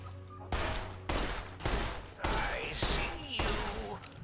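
Pistol fire in Fallout New Vegas, from the Old World Blues add-on, comes as about seven sharp shots in an uneven rhythm, loud and close, each with a ringing decay and whooshing game effects.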